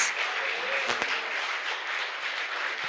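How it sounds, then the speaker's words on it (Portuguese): A church congregation claps after a sermon, a continuous, moderately faint patter of hand claps that holds steady for about three seconds with no talk. "Para Jesus tem que ser bem bonitas palmas"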